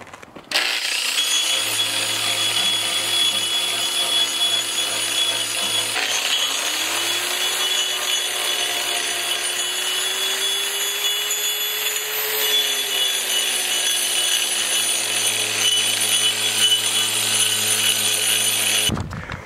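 A grinder works along the edge of a poured concrete countertop, with a steady, loud abrasive whine and rumble that runs continuously and shifts slightly in pitch as the tool moves along the pitted surface.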